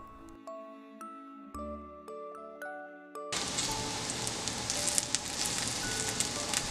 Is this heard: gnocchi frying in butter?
yes